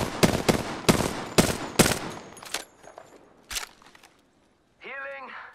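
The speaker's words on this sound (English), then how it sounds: "Getting shot at." Rapid bursts of automatic gunfire from an Apex Legends battle crack out in loud, closely spaced volleys, thinning to a few scattered shots before a short silence and a brief tonal game cue.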